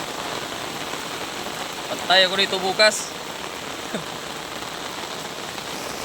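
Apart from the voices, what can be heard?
heavy rain falling at night on a farm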